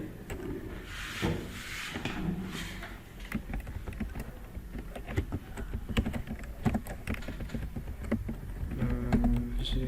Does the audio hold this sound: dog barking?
no